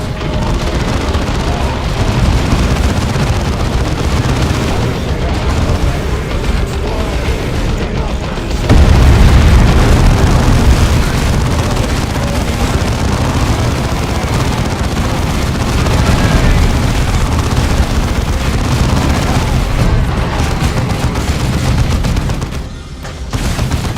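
Orcs firing guns amid explosions in Dawn of War 2, a dense, loud and continuous barrage of booms and gunfire with heavier blasts throughout, and voices mixed in.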